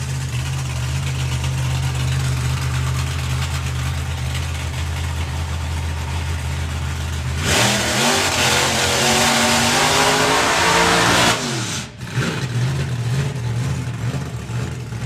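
A drag racing car at the STP Sportsman Nationals idles with a steady low rumble, then launches into a loud, rising full-throttle run of about four seconds that cuts off abruptly before the idle returns.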